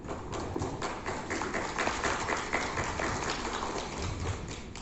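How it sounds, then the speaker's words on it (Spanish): Applause at a youth conference on emergency states and rights, a medium crowd clapping steadily and somewhat unevenly in a hall, with occasional louder thumping claps close by. "Un aplauso para él, por favor"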